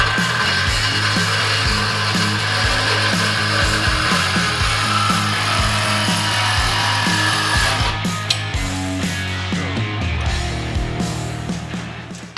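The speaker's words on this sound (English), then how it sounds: "we're going to need to grind some of this off" Angle grinder cutting metal off a lift suspension part on an INEOS Grenadier in a shop, a loud steady whine running continuously with slight changes in pitch as it bites.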